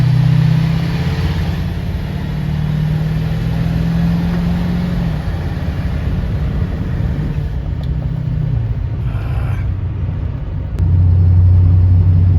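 Ford 6.4 Powerstroke diesel truck engine heard from inside while driving on a road in traffic, a loud, continuous low rumble that dips slightly midway and swells again near the end.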